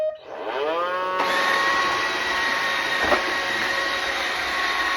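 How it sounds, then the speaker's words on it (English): A Roomba robot vacuum cleaner powers up with a rising whine, then settles into a loud, steady motor hum and brushing whir nearby, with one brief bump partway through. "Now I'm going to turn on the Roomba and let it"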